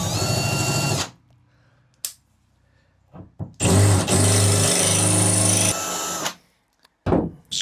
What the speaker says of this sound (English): stainless steel doesn't like being drilled very easily